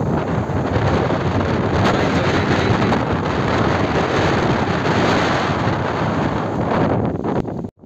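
Strong wind roars through a lychee and mango orchard in stormy weather, a loud, steady rushing gust buffeting the microphone throughout before cutting off abruptly at the end.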